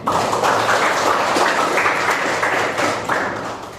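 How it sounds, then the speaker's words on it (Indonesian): A classroom audience claps together at the close of a teacher performance-assessment session, a dense, steady burst of applause held loud throughout and tapering slightly at the very end, with no talking over it. "Sekali lagi kita beri aplaus untuk kita semua"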